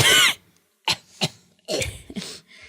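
Several coughs come in quick separate bursts, close and fairly loud, with brief pauses between them.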